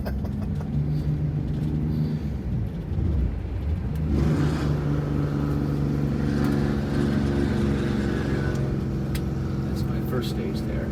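Detroit diesel bus with a repaired Jake brake on a test drive, the engine braking with a steady low rumbling drone that steps up in intensity partway through, heard from inside under a voice.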